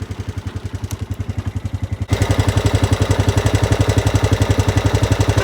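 A Honda Rubicon 520 ATV engine idles with a steady, rapid chugging pulse, close by, growing louder and rougher partway through as the revs rise slightly.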